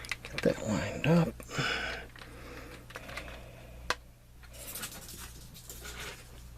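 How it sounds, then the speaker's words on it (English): A cat plays with a crumpled piece of aluminum foil in the background, making faint, scattered crinkling and pattering sounds. These are partly masked by a person talking nearby during the first couple of seconds. "that noise you hear in the background is my female cat, Kira, got a piece of aluminum foil"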